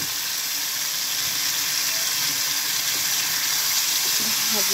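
Eggs and tomato fry in a pan with a continuous, even sizzle, close and loud, holding steady for the whole few seconds with no voices over it.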